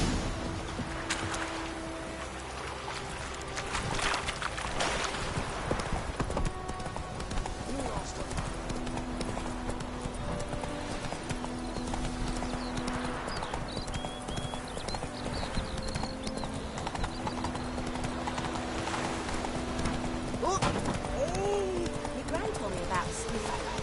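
Roach the horse galloping in The Witcher 3, rhythmic hoof clip-clop running throughout alongside game music and ambience, with talking over much of it.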